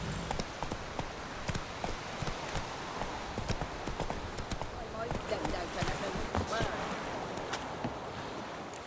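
Hooves clip-clop at a quick, steady gallop as a horse runs in The Witcher 3: Wild Hunt, a continuous rhythmic pounding over a soft outdoor background.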